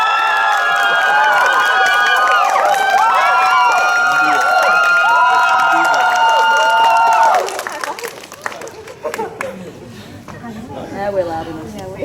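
A group cheers loudly together with excited shrieks and whoops for about seven seconds, then it cuts off sharply and people talk and chatter.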